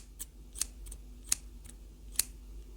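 A few sharp, crisp snips of scissors cutting, spaced irregularly against a quiet background.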